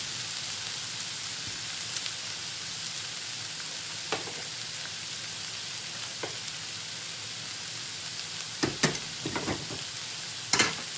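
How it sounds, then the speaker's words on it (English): Chow mein sizzles steadily in a hot pan, a constant frying hiss broken by a few scraping stirs and clatters of a utensil, louder toward the end. "I'm just gonna give the chowmein a stir"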